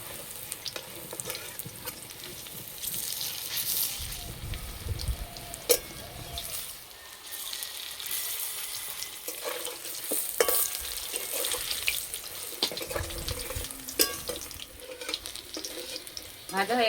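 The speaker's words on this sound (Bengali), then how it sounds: "এক পিঠ ভাজা হয়ে গেছে, এবার উল্টে দেব" Soybean kofta fry in hot oil with a constant crackling sizzle, broken by occasional stirring scrapes and clinks as the pieces are turned, close up and with no talk.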